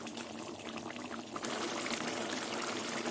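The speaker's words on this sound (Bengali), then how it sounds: "এবার আমি গরম মশলা আর ঘি দিয়ে দেবো" Ghee poured into a simmering vegetable curry of potato and pointed gourd, a steady close liquid pour over sizzling, bubbling noise that grows a little louder partway through.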